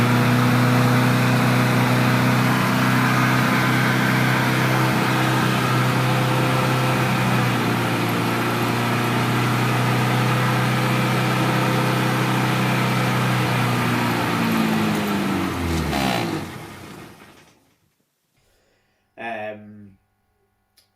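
A loud, steady 1967 Morris Cooper S engine roars at high revs for a long stretch, revving uncontrollably on startup, then winds down and cuts out, leaving a brief faint noise afterward.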